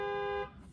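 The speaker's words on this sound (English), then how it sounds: "but alarm started going off on the car." Car alarm sounding on a family car, a single steady electronic tone that holds for under half a second and then cuts off, fairly faint and heard alone.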